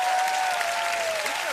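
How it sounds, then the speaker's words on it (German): Thick, energetic applause from a German TV comedy game show studio audience, many hands clapping densely at a steady level, with a faint sustained vocal tone threading through. "Mit das ist ein großer Applaus wert!"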